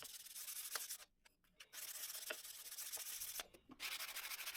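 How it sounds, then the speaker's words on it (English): Close, steady back-and-forth rasp of sandpaper rubbing small pieces of scrap wood by hand, pausing briefly twice before resuming. "Those pieces are so small that I decide to sand them by hand"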